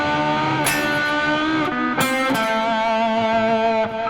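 Electric guitar with heavy distortion playing a phrase from a song's solo: sustained bent notes with sharp pick attacks and pitch slides, loud and continuous with no talking.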